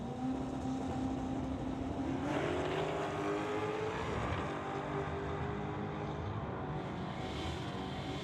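Drag race launch in an eighth-mile class, a Z28 Corvette against a 1969 Acadian, with loud engines roaring off the line and rising in pitch, a dense continuous racing drone that stays strong throughout.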